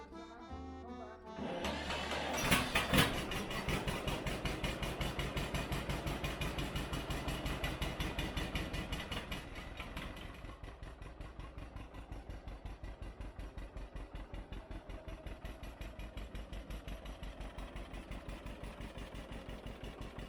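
A 1948 John Deere Model A tractor engine idles steadily and close by, a dense rhythmic chugging that revs briefly near the start, then settles into an even, slightly quieter putter.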